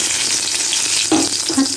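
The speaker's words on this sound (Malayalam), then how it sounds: "ഇനി വെളിച്ചെണ്ണയിലേക്ക് നമുക്ക് മുളക് ഇട്ട് കൊടുക്കാം" Dried chillies sizzle steadily in hot coconut oil, with a couple of louder crackles near the end.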